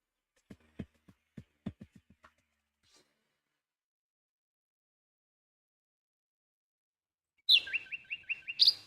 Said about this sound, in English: The sound of adorable little birds in your garden.